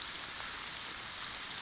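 Steady rain falls outdoors during a bikepacking trip in the Netherlands, a constant hiss of drops pattering on surfaces, close and even throughout with no voices.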